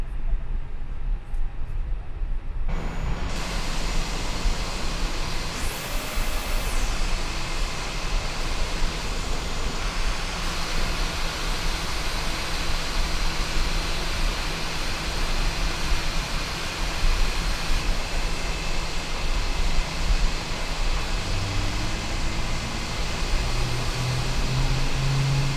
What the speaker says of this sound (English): We're going to go to ignition and starting engine 2.